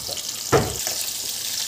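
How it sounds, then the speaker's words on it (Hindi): Fish pieces fry in hot oil toward golden brown, a soft continuous sizzle with one brief louder splash-like burst early on. "गोल्डन ब्राउन होने तक इसको फ्राई करेंगे अच्छे से।"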